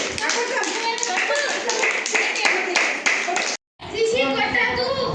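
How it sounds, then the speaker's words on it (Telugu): Children at an Anganwadi centre clap loudly in a quick, even rhythm for several seconds, with their voices mixed in. The clapping breaks briefly, then resumes. "గట్టిగా క్లాప్స్."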